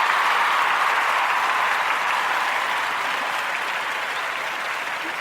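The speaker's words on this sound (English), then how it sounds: "Can we get a hand clap for" A crowd claps together in a thick, continuous wash of applause that stays loud and even, easing off slightly toward the end. Nobody speaks over it.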